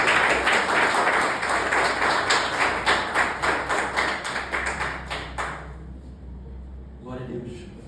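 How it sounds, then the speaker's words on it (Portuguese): A church congregation claps in steady rhythmic unison, loud and close for about six seconds before the clapping stops and a voice speaks briefly. "Aplaude e glorifique o nome do Senhor."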